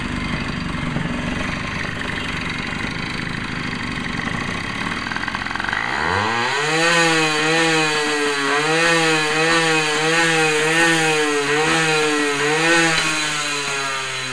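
A Tomos moped engine with a fault that makes it cut out at high RPM: it idles, then revs up sharply into a wavering high-pitched buzz that surges and dips repeatedly, close and loud.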